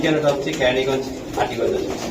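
Budapest pigeons in a loft give repeated low, throaty coos close by, rolling on through the short stretch against a busy background.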